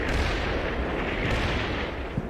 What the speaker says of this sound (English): That's got to be rocket artillery.